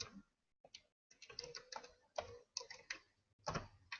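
Quiet, irregular clicks of a computer keyboard as a password is typed, short bursts of keystrokes separated by brief pauses, close and soft with no talking.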